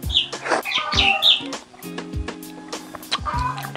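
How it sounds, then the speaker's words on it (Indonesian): Chickens clucking in a village, several close, irregular clucks and squawks with some higher chirps between them, fairly loud and mixed with nearby movement, with no talk. "Ada suara pitik petok-petok"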